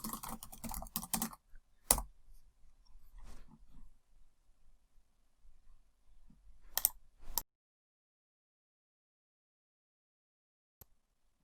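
Fingers tapping on a computer keyboard in quick bursts of clicks, a rapid cluster first, then scattered keystrokes and a few sharp isolated presses, close and fairly quiet before falling silent.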